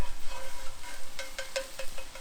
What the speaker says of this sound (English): Let's have a look at our pork mince. Okay. So, frying up here.